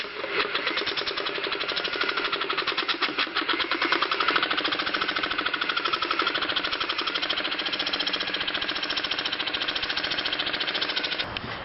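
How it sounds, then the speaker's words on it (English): Sawzall reciprocating saw slowly cutting a plexiglass window well cover, a continuous rapid buzzing rattle that stays loud and steady for the full length with no talking. "the only thing that I had that I could find was this sawzall"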